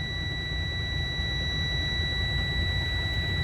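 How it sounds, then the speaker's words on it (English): Steady electronic buzzing of a truck's air brake low pressure alarm during a CDL air brake inspection, a continuous loud tone held without a break over a low engine rumble, no talking. "In this case, we are not building up enough pressure to turn off the alarm."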